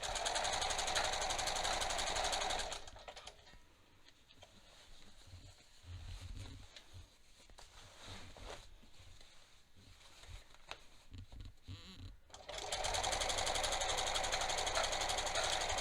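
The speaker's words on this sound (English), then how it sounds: "just going to pull my elastic as I sew" Sewing machine running a long stitch through elastic while it is pulled, loud steady whirring at the start and again at the end, with a quieter stretch between of softer handling and fabric sounds.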